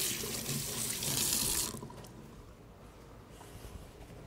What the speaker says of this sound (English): Let me just wash my hands a minute.